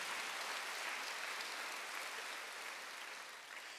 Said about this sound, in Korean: 박수로 하세요